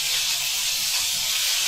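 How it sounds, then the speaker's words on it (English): Unseasoned lamb steaks sizzle in rapeseed oil in a hot pan, producing a loud, steady hiss that stays close and unbroken with no talking. "place in our unseasoned lamb steaks. Now listen to that, starting to sizzle immediately,"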